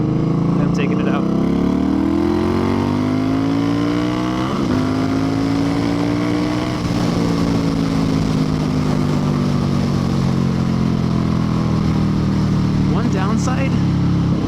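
A Victory Octane motorcycle with an RPW full exhaust revs and runs close by, a deep, throaty engine note rising and falling through gear changes, loud and continuous throughout.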